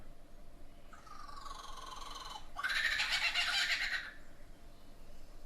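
A lyrebird mimics a kookaburra, giving a rising, laughing call that builds into a loud, harsh burst of rapid cackling before breaking off, heard alone against quiet outdoor background.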